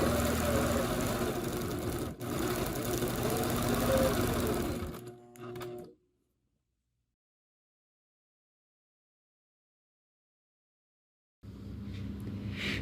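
An APQS longarm quilting machine stitches out an echoed heart design, its steady mechanical whir running loud and continuous for about six seconds, then cutting to silence before resuming near the end.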